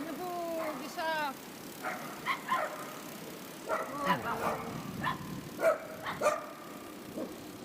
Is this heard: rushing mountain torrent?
no